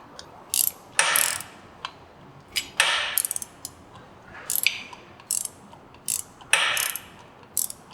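An Allen key with a ratchet works the starter motor bolts on a BMW R90/6 motorcycle, making bursts of close, quick ratcheting clicks in an irregular rhythm with short pauses between them.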